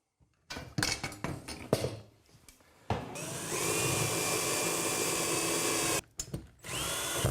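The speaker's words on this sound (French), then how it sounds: "Et là, je peux visser à fond." A power drill drives screws into radiator mounting fixings on a wall, fitting a Mazda Dual Kherr radiator: short bursts at first, then a long steady close whine that stops briefly and starts again.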